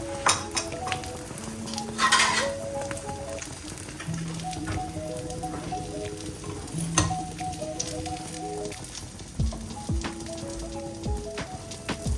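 Food frying and being stirred in a pan for aloo matar chicken in a home kitchen, soft steady sizzle with spoon clinks and scrapes against the pan, close and moderately quiet.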